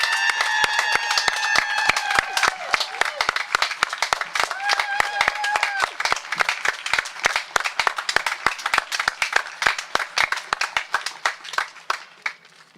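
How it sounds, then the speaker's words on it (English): Audience clapping and cheering at a 2020 high school graduation ceremony, a dense burst of applause that thins toward scattered claps by the end, with a few voices calling out over it. "We're going to give a loud round of applause for her because she's watching us live right now."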